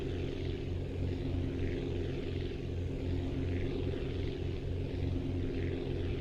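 An aircraft takes off in the video game Aviassembly, its propeller engine a steady, fairly quiet droning hum with a constant low rumble throughout.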